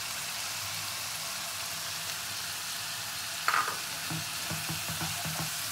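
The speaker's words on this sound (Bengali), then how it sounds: "এটা মশলার সঙ্গে খুব ভালো করে কষিয়ে নেবো" Fish curry masala with turmeric frying in a pan, giving a steady close sizzle with a few soft stirring scrapes near the end and no talk.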